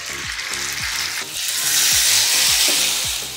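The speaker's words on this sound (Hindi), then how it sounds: "अब तेल हमारा गरम हो गया है, अब नूडल्स को फ्राई कर लेंगे।" Noodles frying in hot refined oil make a loud, steady sizzle that swells midway, with scraping stirring strokes repeating underneath.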